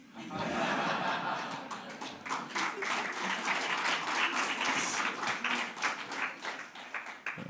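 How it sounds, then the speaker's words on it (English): An audience at the launch of a Huawei South Africa innovation event breaks into sustained, full applause mixed with scattered laughter and chuckles, the clapping dense and steady from start to finish. "They are applauding the most, I think"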